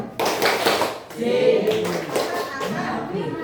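A group of children performs a rhythmic spirit clap in a classroom, quick patterned bursts of hand claps and taps mixed with voices and chanting, fairly close and uneven.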